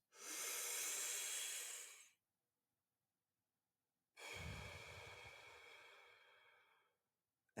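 A slow, deep breath drawn in for about two seconds, a soft airy rush, then a pause of near silence before a longer, gradually fading breath out with low rumble; close and alone, no talking, during a calming breathing exercise.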